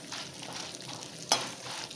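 Dried red chillies fry in hot oil with asafoetida for a radish chutney, giving a soft steady sizzle with one brief sharper clatter partway through, close and fairly quiet with no voices.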